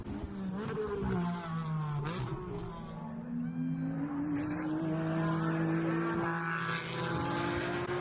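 Race cars in the Michelin Pilot Challenge at Laguna Seca roar up the straight toward the corkscrew, engines rising and falling in pitch as several cars pass, with tire squeal and a continuous loud drone.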